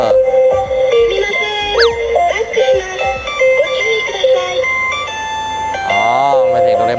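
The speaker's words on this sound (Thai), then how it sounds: "นี่เวลาคุณถอยรถแล้วมีเสียงแบบนี้นะ" A small car reversing alarm plays a looping beeping melody with warbling and rising siren-like tones, loud and close, repeating several times.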